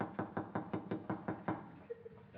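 Knocking at a door in the Dad's Army sitcom: eight or nine quick, evenly spaced raps, fairly close and moderately loud, followed by a brief faint tone and another small knock.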